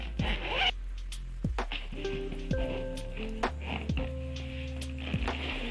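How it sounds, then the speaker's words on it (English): A new luggage bag being unzipped, a series of short rasping zipper pulls in uneven bursts with small taps and rustles between them, close and clear with no talking. "So I'm going to unzip it and show you what's there inside."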